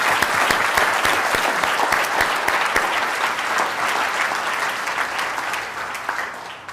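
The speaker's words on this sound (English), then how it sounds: "So big round of applause for all those sponsors." A conference audience applauds the event's sponsors with loud, dense clapping, sharper individual claps standing out early and the sound thinning slightly toward the end.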